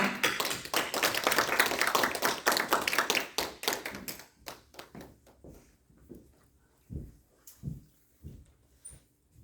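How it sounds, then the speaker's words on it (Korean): Church congregation clapping to welcome a visiting pastor: loud, brisk rhythmic applause for about four seconds, then it thins to scattered, isolated claps that fade out. "우리 힘찬 박수로 한번 환영해 드리겠습니다"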